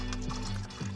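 Water pours into a slim 600 ml bottle, a close, continuous gurgling splash with rising, bubbling tones over about a second.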